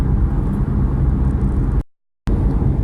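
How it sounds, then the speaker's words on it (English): A modified Porsche sports car with IMS work done gives a steady low engine drone and rumble heard from inside on an early morning drive in Australia, cutting out abruptly for a moment before returning. "he's done the IMS on it as well, and it sounds incredible"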